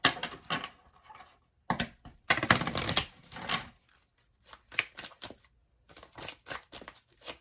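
Tarot cards being shuffled by hand in bursts of crisp riffling and slapping, with short pauses between the flurries, close and fairly quiet.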